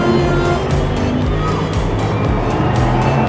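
Diecast miniature race cars, a McLaren among them, run down a track in a racing quarter-final, making a loud, continuous rolling rumble with a faint rhythmic clatter throughout.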